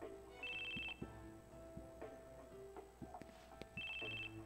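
A phone ringtone sounds in the video game Crisis Core Final Fantasy VII, two short bright electronic trills near the start and end, with soft game sounds and thuds between them.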